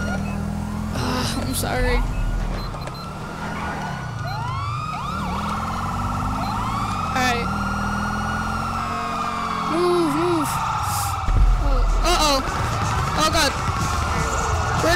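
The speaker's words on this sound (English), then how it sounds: "I'm gonna turn off my siren." Police car siren in the video game GTA V with the LSPDFR mod wails and yelps continuously under game effects, while someone speaks briefly over it.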